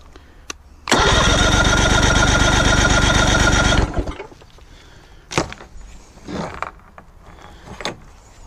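A Mercury 60hp outboard engine cranks over steadily for about three seconds during a compression test, with a loud even churning rhythm that then stops, followed by faint handling clicks and knocks.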